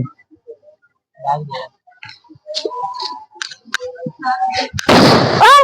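A firecracker bursts inside a bottle at a village Chhath Puja celebration, one loud sharp bang near the end that rings out after scattered voices talking nearby.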